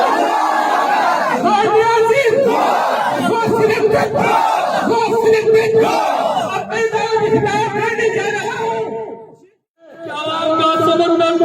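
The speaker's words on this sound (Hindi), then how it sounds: "शेरों की तरह, मुजाहिदों की तरह आवाज निकाले, नारे तकबीर" A large crowd at a protest rally against inflation in Lower Kohistan, Pattan, roars a slogan back in unison, loud waves of shouting that surge, break off briefly into near silence, then erupt again.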